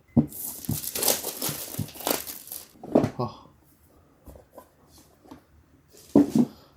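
Packaging for an Insta360 X5 camera accessory kit is opened, with crinkling plastic, tearing and rustling cardboard in bursts close by, while a person talks over the handling.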